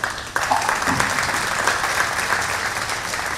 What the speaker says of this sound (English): Let's give those kids a nice round of applause.